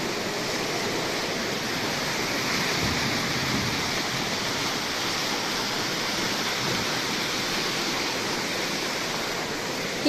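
A monsoon-swollen drain in Uttarakhand roars with rushing, overflowing rainwater, a loud, steady, dense wash of noise that holds without pause, close by and with no voices.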